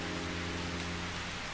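Steady rain hisses over stone streets and granite temples at night in the video game Calvino Noir, a constant soft wash beneath a low ambient hum, with one brief tap near the end.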